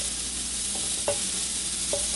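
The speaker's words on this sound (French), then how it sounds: "L'important, c'est de faire rôtir, caraméliser les oignons." Onions caramelizing in a pan for French onion soup, with a steady sizzle of frying and a few short scrapes of stirring, close and alone with no talk.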